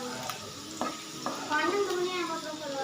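Dragon chicken fries on high flame in a pan, a close, busy sizzle broken by a few sharp clinks and scrapes of stirring, with no talk.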